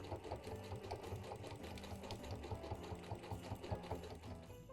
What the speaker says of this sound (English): we're just going to continue to stitch all the way around